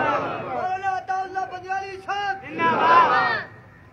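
A crowd at a religious conference chants slogans, with a single voice leading in loud, harmonically rich bursts and many voices roaring back in answer.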